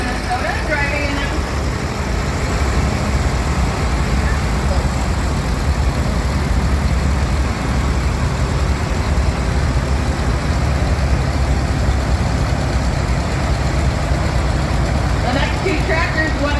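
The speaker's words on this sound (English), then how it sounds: "Following that tractor is a Farmall H." A Farmall H antique tractor engine runs steadily through a parade at a Minnesota threshing show, a loud continuous rumble with crowd and outdoor noise, and a voice talking over a loudspeaker.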